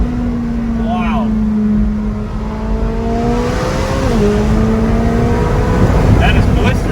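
A McLaren 570S Spider sports car accelerates hard on a test drive, its engine note rising steadily and shifting once, loud and close from inside the cabin, with people talking over it.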